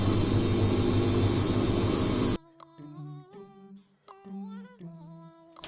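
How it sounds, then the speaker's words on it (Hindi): A loud, steady mechanical roar of a washing machine runs for a couple of seconds, then cuts off abruptly and a voice speaks. "Washing machine."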